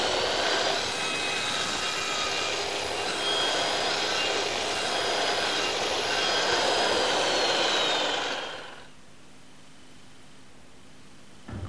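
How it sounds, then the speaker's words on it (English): A Triton Mk3 setup with a circular saw makes finishing cuts on timber, giving a loud, sustained broadband whirring roar for about eight seconds before it winds down into near quiet. "pull the saw back, and then switch on the power and make a couple of finishing cuts"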